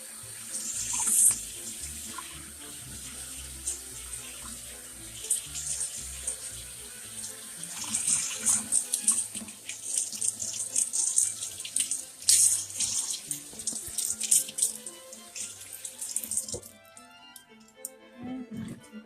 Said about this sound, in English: we will rinse it carefully because it will sell if we agitate it too much